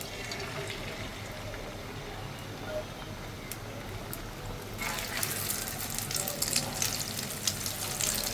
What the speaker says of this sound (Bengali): আমি আবার এই জন্য দুইটা ডিম নিয়েছি ভাজার জন্য